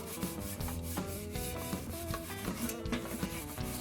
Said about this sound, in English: steel wool. This is just getting rid of the burrs in the paint.